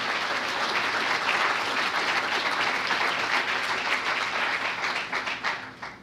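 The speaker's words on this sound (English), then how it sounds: "Let's give them, the folks, a round of applause." A full audience at the Carroll Biz Challenge 2013 community business event breaks into dense, steady applause that holds strongly for about five seconds, then thins and fades toward the end.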